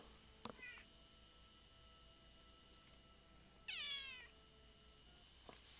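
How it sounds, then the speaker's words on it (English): A cat gives a single clear meow, fairly close, in an otherwise quiet room with faint electrical hum and a few small clicks. "Could have swore I just heard a cat."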